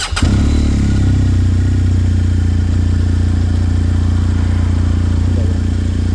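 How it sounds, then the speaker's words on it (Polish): A 2019 BMW R1250 GS Adventure motorcycle engine cranks and catches almost at once, then settles into a loud, steady idle rumble that runs without a break. "Naciskam w tym momencie zapłon i rozrusznik."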